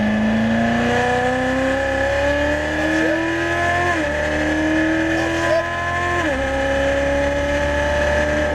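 An exotic race car accelerates hard under throttle, its engine note climbing in pitch through several upshifts, loud and close throughout.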